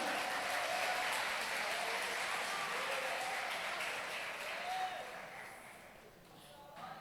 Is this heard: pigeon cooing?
no